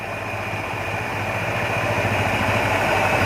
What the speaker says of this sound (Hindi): जैसे ही मैं इसको ऊपर कर रहा हूँ तो गाड़ी मेरी एडवांस हो जा रही है, यानी कि आरपीएम इसका बढ़ जाता है